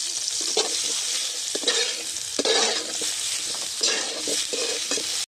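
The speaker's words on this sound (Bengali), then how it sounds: "বেগুন ভর্তার লাগিয়া বেগুনটা হালকা টালা দিলাম।" Sliced eggplant pieces lightly fried for bharta hiss in a pan with a steady, close sizzle, broken by occasional stirring scrapes and clatters, with no voices.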